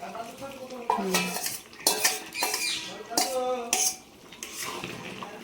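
Metal spoon stirring fried eggs into a dhaba-style egg tarka in a pan, with repeated clinks and scrapes against the metal in short close bursts.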